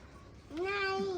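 A cat gives a single short meow, close and clear against a quiet domestic background.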